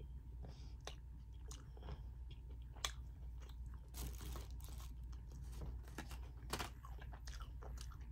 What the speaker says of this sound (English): I'm eating carne asada tacos.